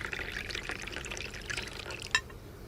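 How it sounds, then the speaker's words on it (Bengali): Coffee pours from a flask in a soft, continuous stream of liquid trickling into a cup, ending with a brief clink near the finish. "চেয়ারে বসতেই ফ্লাস্ক থেকে কফি ঢেলে আমার দিকে এগিয়ে দিলেন।"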